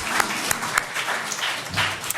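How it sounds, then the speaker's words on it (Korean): A church congregation at an Easter service claps together in a short, close burst of applause, with loud individual claps standing out from the general clatter. "우리 박수로 하나님께 영광 올려드리겠습니다"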